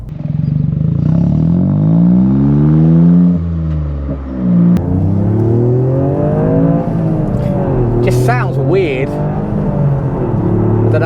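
A hot hatch car engine idles with a lumpy, burbling rumble, briefly dipping and rising in revs, loud and close throughout.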